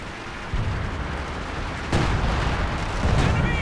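Artillery barrage in the Company of Heroes 2 strategy game, with deep rumbling blasts landing in a few heavy surges over a continuous low roar of battle.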